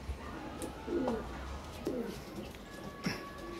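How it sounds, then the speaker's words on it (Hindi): Pigeons coo softly at dusk near a tree, with a few low, rounded calls spaced a second or so apart over faint background noise. "और देखिए शाम तक के उड़े हुए कबूतर हैं"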